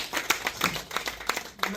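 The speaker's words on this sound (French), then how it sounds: "Applaudissez pour ces qualités, s'il vous plaît" Scattered handclaps from guests at a 40th birthday celebration, a handful of sharp, uneven claps at close range, with voices mixed in.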